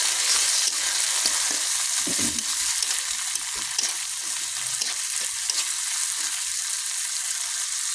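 Onion, tomato and green chili frying in oil in a pan, a steady loud sizzle with scraping stir strokes through the middle, no talking.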